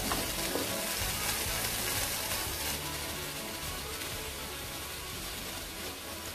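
Tomatoes frying and being stirred in a hot pan for a fish curry, a loud dense sizzle that holds steady close up and eases slightly after the first few seconds.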